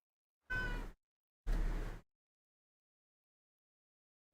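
A house cat meows twice at a closed door, two close, loud cries about a second apart, with silence around them and no talking.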